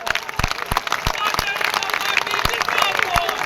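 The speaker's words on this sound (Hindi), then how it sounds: "आप जोरदार तालियों से एक बार जोरदार तालियां बजाएं" Crowd applause at a BJP political rally, scattered sharp claps over a steady wash of noise, fairly loud, with voices mixed in.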